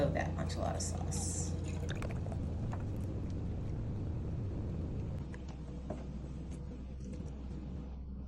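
Canned enchilada sauce glugs and drips as it is poured into a dish for a Tex Mex ramen casserole, a soft wet trickle over a low background rumble.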